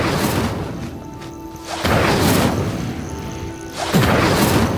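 The Incendio fire spell in Hogwarts Legacy, three loud whooshing bursts of flame, each flaring up abruptly and then roaring briefly before dying down.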